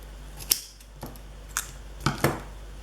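Scissors snip through paper during card-making, five or so crisp, quiet cuts spaced unevenly over a few seconds against a low background hum.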